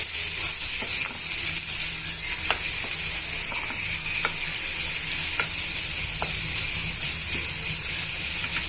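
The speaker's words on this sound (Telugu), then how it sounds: "ఇవన్నీ కూడా బాగా ఇలా మిక్స్ చేసేసుకోండి" Tomato bath ingredients stirred in a hot cooking pan, a steady loud sizzle with soft scraping and occasional spoon taps against the pan.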